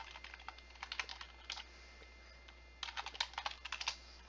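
Typing on a computer keyboard, two quick bursts of rapid close key clicks separated by a brief pause, quiet with a faint low hum underneath.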